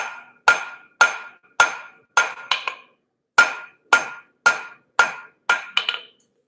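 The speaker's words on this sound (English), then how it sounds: "Always be careful to hit the same spot with your hammer and just move your steel." Hammer striking hot steel on an anvil while forging hooks, about a dozen sharp ringing metallic blows in a steady rhythm, close and loud, with a brief pause midway and a quick double strike near the end.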